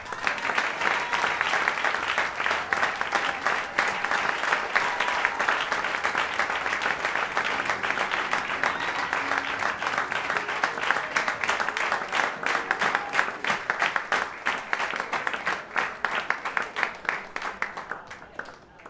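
Long, steady applause fills a hall at a French-speaking gathering, many hands clapping close and continuously, with faint voices under it before it tapers at the end.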